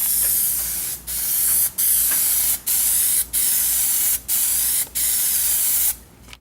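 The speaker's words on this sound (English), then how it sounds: "this is going to be our second coat of Plasti dip over the primer" An aerosol can sprays a second coat of Plasti Dip over primer on an aluminum panel, with loud, close hissing bursts repeated about seven times with brief breaks between them.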